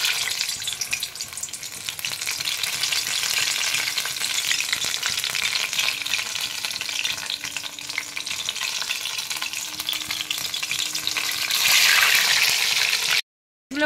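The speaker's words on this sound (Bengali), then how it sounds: "কড়াতে আমি তেল দিয়ে দিয়েছি, কড়া বসিয়ে তেল গরমও হয়ে গেছে। এবার আমি একটা করে মাছগুলো ছাড়ছি।" Pieces of rohu fish, dipped in batter, sizzle and crackle steadily in hot oil in a wok, a loud continuous frying hiss that swells near the end before cutting off.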